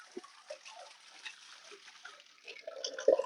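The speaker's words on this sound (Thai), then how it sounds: "ก็เปิด ก็จะมีน้ำไหลมาเลยนะครับ" Water trickles and splashes out of the bottom valve of a household water tank, faint and close, with a louder gush near the end.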